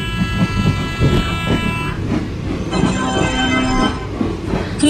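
Rajdhani Express train departing Mumbai Central station, heard as a loud rumble of rolling wagons with a sustained horn toot and some wheel squeal, all close and continuous.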